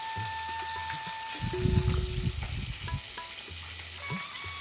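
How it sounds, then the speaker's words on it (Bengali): Pieces of catla fish fry in oil in a wok, a soft sizzle that swells into louder crackling as they are turned over, then settles back to a gentle fry. "এখন আমি উল্টে পাল্টে ভালো করে মাছগুলো ভেজে নেব।"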